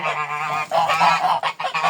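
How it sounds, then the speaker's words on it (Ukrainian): A goose honks loudly and close by, several harsh nasal calls in quick succession. "Це в нас гуска одна."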